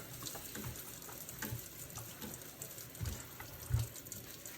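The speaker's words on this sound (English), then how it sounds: "I was handling fish, so I have to wash my sink." Running tap water splashes into a kitchen sink being washed after handling fish, a quiet steady stream with a couple of louder knocks and splashes near the end.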